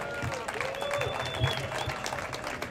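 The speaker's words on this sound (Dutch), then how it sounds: "Groot applaus." Crowd applause from an outdoor audience at a cannabis acceptance rally on the Dam in Amsterdam, steady broadband clapping sustained throughout, with talk over it.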